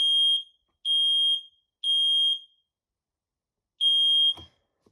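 A smoke alarm sounds after its cover is pressed, giving three loud, piercing beeps about half a second each at an even pace, a pause, then a fourth beep ending in a clunk, close and alone.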